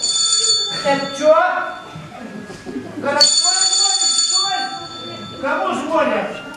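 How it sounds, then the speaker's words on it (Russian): A telephone rings during a comedy festival sketch, giving long bright electric bursts that repeat under and between raised voices, loud and close. "Кому звонят?"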